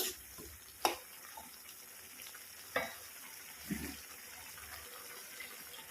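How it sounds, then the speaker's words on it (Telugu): Water goes into a pot of taro root and spinach curry as it cooks. It is faint and quiet, with a few sharp clinks and a short soft pour or stir, and no voices. "కొంచెం వాటర్ వేద్దాం ఇందులోనే మనం"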